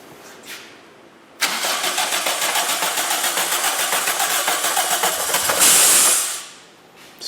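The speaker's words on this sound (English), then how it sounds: "Yeah, let's start it up." A Toyota 4AGE 20V engine in an AW11 MR2 cranks and fires into a loud, steady idle close by after a quiet start, with a hissing burst near the end before it cuts off abruptly.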